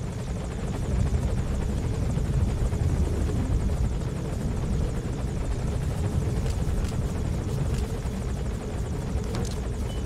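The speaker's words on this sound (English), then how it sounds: "looks like the helicopter has moved into a holding pattern here" A helicopter hovers in the video game Metal Gear Solid 5, a steady loud rotor thrum and engine whine holding constant for the whole stretch, no talk.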